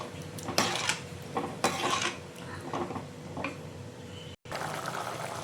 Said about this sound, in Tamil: புளி கரைச்சி ஊற்றி இதை நல்லா கிளறி விட்டுக்கோங்க